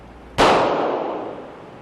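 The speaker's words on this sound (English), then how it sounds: "See for yourself as the officer fires the weapon." A police officer fires a single .40 S&W pistol shot, a loud, sharp crack up close followed by a long, fading echo.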